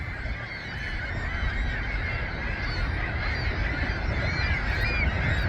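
A large flock of seagulls by a lake calls loudly and continuously, forming a dense, overlapping chorus of cries with no talking.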